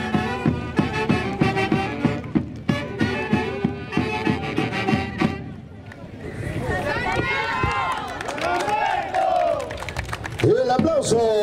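At the Santiago festival in Muquiyauyo, Peru, sharp rhythmic claps or stamps beat steadily for about five seconds. A lively crowd then bursts into shouts and cheering, with voices calling over the noise.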